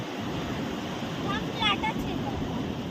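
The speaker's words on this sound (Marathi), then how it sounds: "पाण्याचीच लाट येते त्याच्याकडे." Sea waves wash up on a beach as a continuous close rush of surf and wind noise. Brief voices are heard over it.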